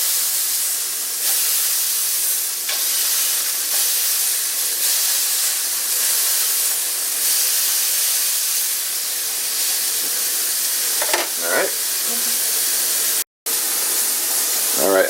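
Bean burgers smashed flat with a spatula sizzle on cast iron. A loud, steady hiss of frying runs throughout, with a few brief scraping sounds near the end.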